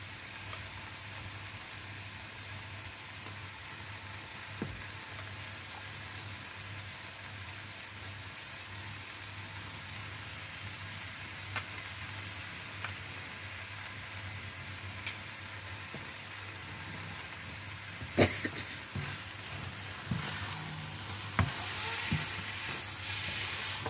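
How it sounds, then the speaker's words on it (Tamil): Boiled noodles tossed into a hot pan with tuna and stir-fried, giving a steady close sizzle throughout, with a few clinks and scrapes of stirring growing more frequent toward the end. "நான் இந்த ஸ்டேஜில் நூடுல்ஸை போட போகிறேன்."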